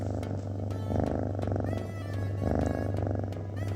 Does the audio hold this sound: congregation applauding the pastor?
no